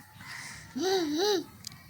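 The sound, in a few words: child imitating a cuckoo's call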